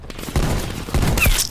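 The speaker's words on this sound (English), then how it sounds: "Let's use our hand cannon." A hand cannon fires in Call of Duty Black Ops Cold War multiplayer, with three heavy shots in quick succession. Each blast is loud and booming, with a short reverberant tail.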